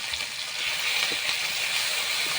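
Onion, garlic, green chili, mustard seeds and nigella seeds frying together in hot oil, giving a steady, close, even sizzle that holds through without a break.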